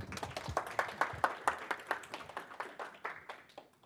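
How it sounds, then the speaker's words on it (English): Small audience at a technical talk clapping for the two speakers, a close group of distinct, fairly rhythmic handclaps for about four seconds with no talk. "give a round of applause for Dr. Wright and uh, Nick"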